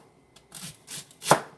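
A knife chops raw pear and celery on a cutting board for a salad, three or four close, crisp cuts at irregular intervals, the last one the sharpest, with no talk.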